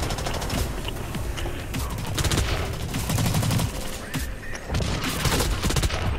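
Rapid automatic gunfire from the shooter game BlackLight: Retribution, loud dense bursts and fusillades rattling almost continuously with brief gaps and a few booms.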